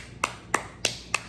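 Four sharp hand claps at an even, deliberate rhythm, close and crisp, each a brief isolated snap with quiet in between.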